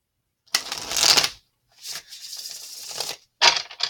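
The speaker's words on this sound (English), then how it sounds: "one more shuffle" Cards being shuffled in three quick riffling bursts, separated by short pauses, close and fairly loud with no voices.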